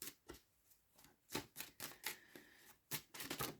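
Tarot cards shuffled by hand in a quiet room, giving a string of short, crisp riffling and tapping bursts at an uneven rhythm, close and fairly soft.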